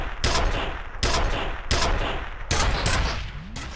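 Gunfire in the F.E.A.R. video game: four loud, sharp bursts of shots spaced roughly a second apart, each ringing out briefly before the next.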